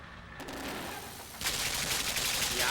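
Gunfire in the side-scrolling game Limbo: a burst of sharp, loud shots that sharpens into denser, harsher firing partway through, with no talk over it.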